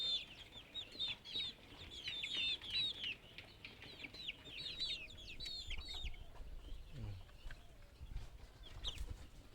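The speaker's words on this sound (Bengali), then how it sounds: "সোনালী মুরগির বাচ্চাও আছে" Sonali chicken chicks cheep in quick, high bursts close by, busiest at first and then thinning to scattered calls over a low background rumble.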